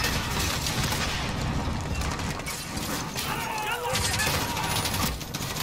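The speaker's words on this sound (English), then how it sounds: "they're all like shooting at me right now" Enemy gunfire in Modern Warfare (2019) on realism difficulty during an embassy mission, a dense, continuous barrage of shots and mechanical clatter that stays loud throughout, with a player talking over it.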